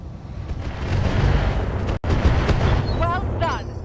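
Heavy weapons fire booms and crackles in the mech combat game RogueTech, a BattleTech mod, as a dense, loud barrage that drops out for an instant midway before roaring on, with a voice talking over it.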